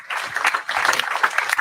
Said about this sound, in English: Now we clap for this part.